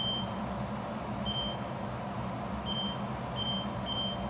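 Kitchen timer being set while green beans and bacon cook on a low stove, giving five short high beeps spaced irregularly over a steady background hum.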